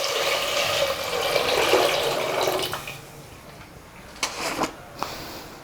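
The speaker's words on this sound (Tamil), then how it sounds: "ஸோ இதில் நான் வந்து 4 கப் தண்ணி அளவுக்கு நான் சேர்க்குறேன்." Four cups of water poured into a pot of rice and lentils, a rushing splash for about three seconds that fades, followed by a few light knocks and clinks.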